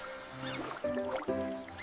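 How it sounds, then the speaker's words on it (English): A bat gives thin, high squeaks and chirps in short repeated bursts, close and moderately loud, alone without any voices. "It's a bat."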